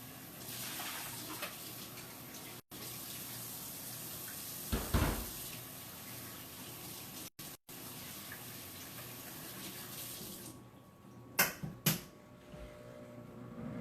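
Water runs quietly from a tap while a blender is rinsed, a soft continuous gush broken by a few knocks and clunks, with sharper bumps near the end.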